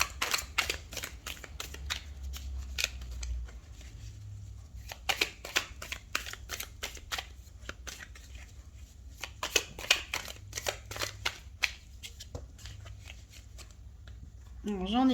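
Tarot cards shuffled by hand, a dense run of crisp riffling flicks and slaps repeating throughout, fairly close, with a low background hum and brief murmurs.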